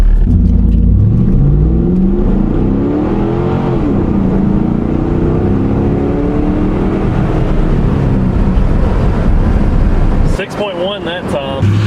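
A stock Z28 Camaro accelerates hard in overdrive, its engine a loud, continuous roar with shifting pitch that drops off abruptly near the end, while people talk inside the car.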